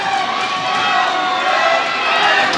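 Wrestling crowd at a Milton match roaring steadily, a dense sustained wall of cheering and shouting from a large audience with no break, loud and continuous.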